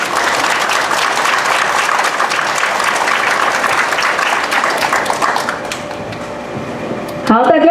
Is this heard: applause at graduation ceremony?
yes